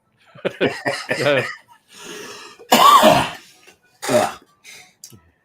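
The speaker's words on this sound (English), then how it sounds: "That cough" A person coughs and clears their throat several times in harsh, raspy bursts, close up, with brief pauses between fits.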